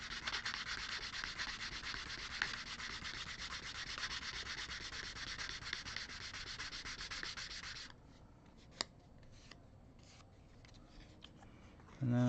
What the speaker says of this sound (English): And now I'm gonna do a bit of sanding.